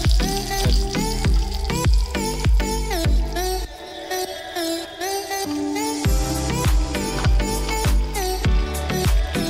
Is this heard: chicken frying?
yes